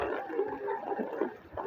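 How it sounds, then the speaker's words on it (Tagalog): Flood water rushes along a street in Antipolo, a brief, steady gurgling wash of moderate loudness with no one speaking. "Baha."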